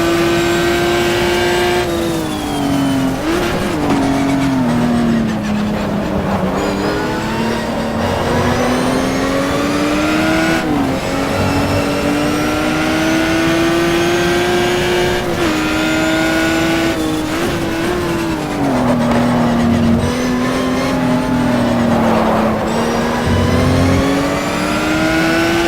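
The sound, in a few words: race car engine revving in Simbin GTR2 video game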